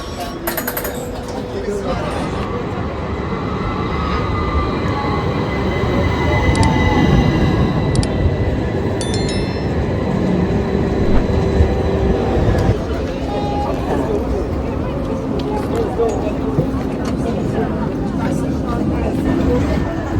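Tram ride in Istanbul, heading toward Bağcılar, with a steady rolling rumble and rail noise throughout, faint high tones and chimes, and people talking in the background.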